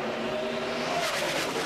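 NASCAR Cup cars at Dover roar at full throttle after a green flag, a loud, dense engine howl that fills the clip continuously with no talking.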